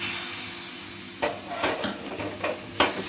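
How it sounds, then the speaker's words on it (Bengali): Batter poured into a ghee-brushed hot pan for patishapta, a soft sizzle rising after a quiet start, with a few scraping clinks of the pan and utensil scattered through it, close and alone without talk. "এখন এর মধ্যে ব্যাটারটা দিয়ে দেবো।"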